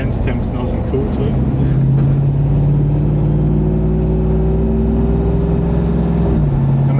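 A V8 Toyota Landcruiser 80 Series runs on a dyno at light throttle in fifth-gear overdrive, its loud, steady engine drone and whirring drivetrain holding a constant pitch before easing slightly near the end.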